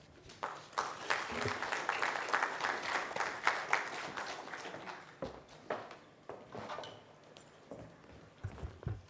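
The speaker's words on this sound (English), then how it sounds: "She deserves another round of applause, ladies and gentlemen." Audience at a Kenyan population and development conference clapping: sustained, dense applause fills most of the clip before thinning into scattered claps near the end, with a few voices mixed in.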